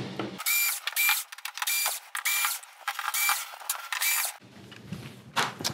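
Screws being backed out of an LG OLED55C7P OLED TV, heard as close, repeated mechanical ratcheting clicks in bursts with short pauses, loud and alone with no talking.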